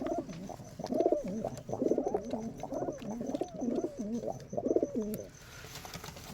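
Several Rajshahi Giribaz pigeons coo in a steady run of rolling, throaty calls, close and fairly loud, pausing briefly before a final burst near the end; no voices.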